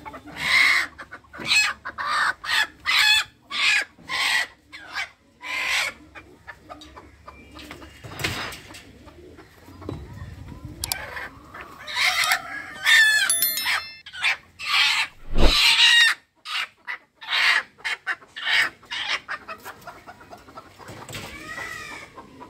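Hens cluck in repeated short bursts in a farm coop where pigeons and chickens are kept, with loud near calls and a few sharper squawks between quieter gaps.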